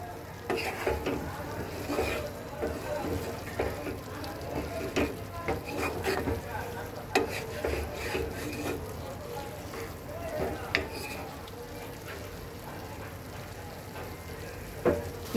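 Soya chunks sautéed and stirred in a pan for a meat-style curry, with steady scraping and a soft sizzle that carry on continuously at close range, and faint voice-like sounds running underneath.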